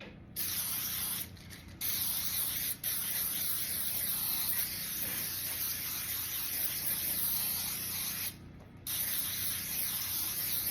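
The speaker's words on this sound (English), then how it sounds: "So you're gonna spray your cookie sheet." Close aerosol cooking spray hisses onto a cookie sheet in long steady bursts, broken by a few brief pauses, with no talking.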